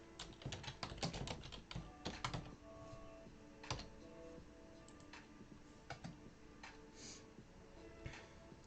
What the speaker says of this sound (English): I need to put my keyboard closer.